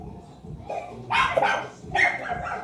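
A very large Great Dane barks close by, two deep, loud bursts separated by a short pause over a low background.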